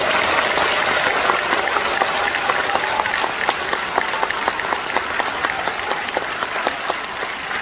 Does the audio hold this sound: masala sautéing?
no